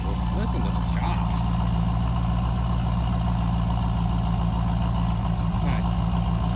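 A Camaro's engine idles with a choppy, lumpy rhythm, a steady low rumble heard close up with a few faint clanks over it and no clear talking.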